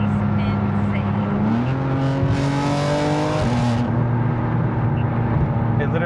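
A loud 2026 BMW M4 xDrive Competition engine with catless downpipes running on E85 revs and climbs through the gears, pitch rising and shifting, close and continuous.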